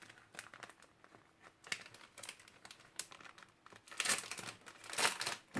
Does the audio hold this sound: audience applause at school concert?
no